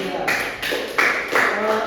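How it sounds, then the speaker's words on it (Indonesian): Classmates clapping for a student in a classroom lesson, a few short bursts of hand claps in uneven rhythm, close and moderately loud. "Tepuk tangan buat Mbak Saida."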